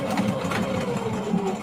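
A home sewing machine stitches fabric in a steady, fast mechanical hum with rapid needle clatter, close up and alone for a couple of seconds.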